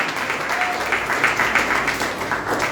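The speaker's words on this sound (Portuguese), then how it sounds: "Então aplauda Jesus para adorá-lo." A church congregation claps during worship, a moderate, steady wash of applause throughout, with a faint voice briefly audible underneath.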